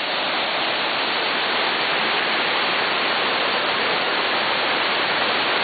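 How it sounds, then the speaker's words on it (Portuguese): Steady, dense roar of a waterfall, close and continuous with no breaks, filling the whole stretch at an even loudness with no voices over it. "Olha a queda de água."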